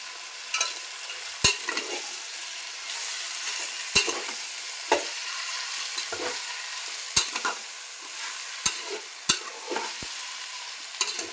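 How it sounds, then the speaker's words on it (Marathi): Cauliflower florets sauté in hot oil in a pan for a pulao, with a steady soft sizzle broken by repeated sharp clinks and scrapes of a spoon stirring against the metal. "हे बघा, हे आपल्याला चांगलं तेलात परतायचं."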